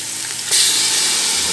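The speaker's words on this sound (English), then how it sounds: "you hear that beautiful sizzle" Onion and garlic sizzle loudly in a hot pot while cooking Japanese katsu pork curry, a sudden burst of frying hiss halfway through that then holds steady and strong.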